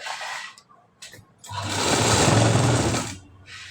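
A sewing machine runs in a steady loud burst for about a second and a half while stitching a high-neck blouse, with a few softer mechanical clicks and handling sounds before it starts.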